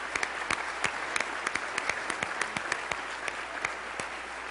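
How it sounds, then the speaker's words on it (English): Steady applause from a seated audience honouring veterans at a chamber of commerce event, sustained and even with distinct individual claps popping out near the microphone. "Let's give these folks a round of applause."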